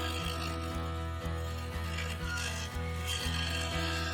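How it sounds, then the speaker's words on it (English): A mid-sized carbide finisher with a standard cutter scrapes the inside of a large segmented wood bowl with a resin insert on a lathe, making a steady rasping cut with a regular rhythmic thump from each turn. "I began shaping the inside. For this I used a mid-sized carbide finisher,"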